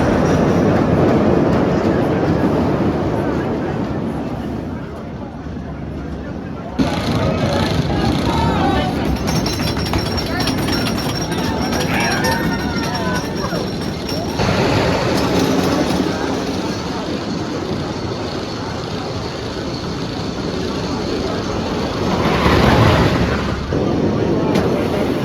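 Phoenix wooden roller coaster at Knoebels: a long, steady clattering rumble of the train running along the track, loud and continuous, with riders' voices faintly mixed in and a brief surge near the end.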